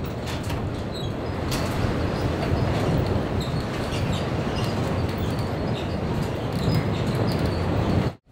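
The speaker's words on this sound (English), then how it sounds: "You can hear the wind just howling outside." Wind howls outside on a ranch during calving season, a constant broadband roar with rattling gusts and creaks, steady and fairly loud throughout with no voices.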